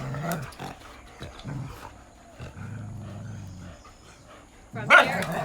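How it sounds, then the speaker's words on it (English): Dogs bark and yelp in short scattered bursts while playing in a home during a yoga session, with a louder sharp outburst near the end and no talking. "Playtime with the doggies."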